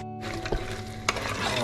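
Goat mutton curry simmering in a pot with salt, a steady soft sizzle and bubbling with a couple of brief spoon or stirring clinks, close and continuous, no voices.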